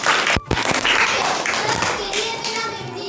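Children clap in a classroom, a burst of sharp hand claps near the start followed by a busy, ongoing patter under kids' chatter and speech.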